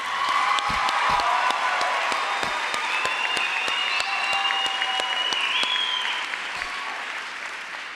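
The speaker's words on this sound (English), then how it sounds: "give the staff, administration, and teachers of the High School of Commerce and the Honors Academy a big round of applause" Graduation crowd at a high school ceremony applauds the staff, administration and teachers, a dense, steady wash of clapping with some cheering, loud and sustained before slowly tapering.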